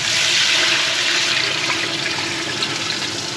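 A whole kettle of water poured out for cooking couscous, a loud, steady rushing splash that fills the short stretch and eases slightly toward the end, with no voices.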